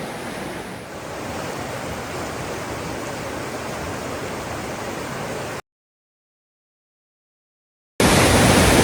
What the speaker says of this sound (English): I'm here at the falls, and this one is slightly larger.